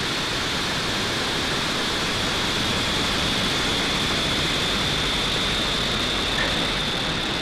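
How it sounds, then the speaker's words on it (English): A SpaceX Falcon 9 rocket lifts off carrying the Galaxy 37 satellite, a dense, unbroken roar of broadband rumble heard from a distance, steady and loud throughout with no voices. "ignition, and liftoff for Falcon 9"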